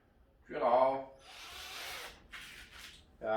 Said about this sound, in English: Just going to drill some holes in the corner.